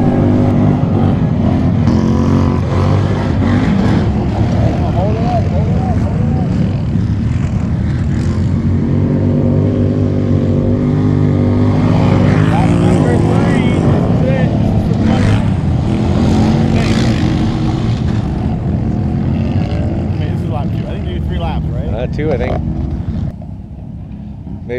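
Big-bore 500-750 class ATVs racing on a track, engines droning and revving continuously with shifting pitch as machines pass, loud and sustained, with people talking over the engine noise.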